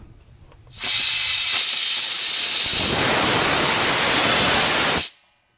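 A loud, steady rush of escaping air hisses for about four seconds as a Harbor Freight air compressor tank is drained, starting abruptly and cutting off sharply, with a brief spluttering burst partway through.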